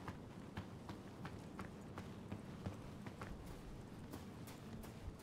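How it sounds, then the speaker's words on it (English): Footsteps in the video game Star Citizen, a steady run of quiet, evenly paced taps on a hard surface, faint and continuous. "Footsteps change to what you're walking on"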